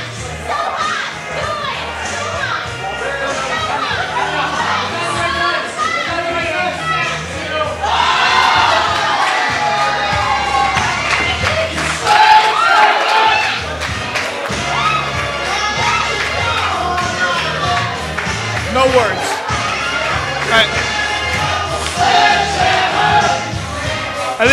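A loud crowd at an RWA professional wrestling event cheers, shouts and chants continuously, with many voices including high-pitched ones swelling and surging throughout.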